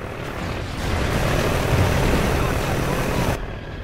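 A steady roaring engine drone from flying drones in Call of Duty: Ghosts holds loud and close, swelling slightly before cutting off abruptly near the end.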